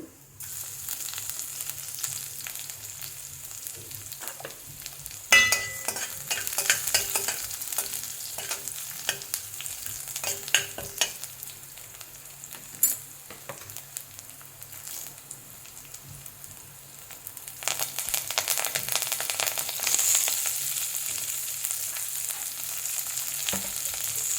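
Onions frying in oil with cumin and garlic for tomato sambar, a steady close sizzle with occasional stirring clicks and scrapes, growing louder and brighter near the end, with no voices.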